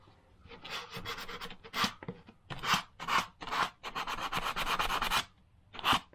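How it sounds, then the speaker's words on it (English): Light hand sanding on a piece for a Star Wars-themed man-cave pub, heard as a series of close, raspy rubbing strokes in bursts, some longer and steady, others short, with brief pauses between them. "With a bit of trusty light sanding."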